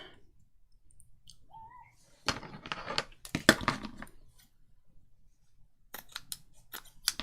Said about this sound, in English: So if I cut that in half then,